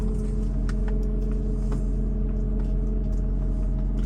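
A hydraulic suspension pump on a 2006 Mercedes-Benz SL500 with a coilover conversion hums steadily under a low, constant motor drone, with faint clicks and no talking.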